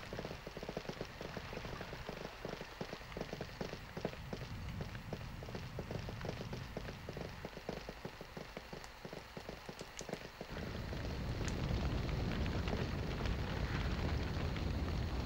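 Fire crackling in the video game Summoner, a continuous noisy crackle under rhythmic thudding footfalls, swelling into a denser, louder roar for the last few seconds, with no speech.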